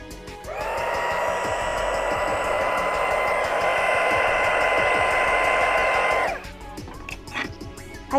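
A small embossing heat gun blows on a UV resin keychain, a steady whining fan hum that starts abruptly, runs for about six seconds, then cuts off. Faint handling noises follow and nobody speaks.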